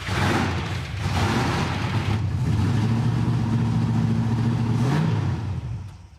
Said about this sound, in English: Why don't you just hop inside and start the engine?